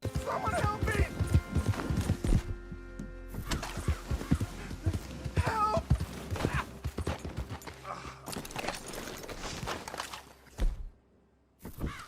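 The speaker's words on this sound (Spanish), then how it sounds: "¿Cómo no distraerte si vas montando tu caballo y empezás a escuchar?" Horse hooves clip-clop steadily as a rider travels through an open-world video game, joined by a brief whinny and other game sounds, with a voice talking over parts of it.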